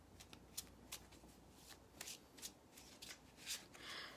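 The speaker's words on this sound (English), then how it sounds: "I really feel it's necessary to pull another card on the 9 of Cups right now." Tarot cards being shuffled and pulled from the deck, a faint, close riffle of sliding card edges with soft snapping flicks scattered through, quiet and continuous with no talking.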